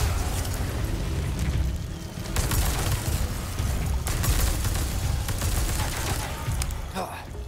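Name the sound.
gunfire in Resident Evil 4 Remake video game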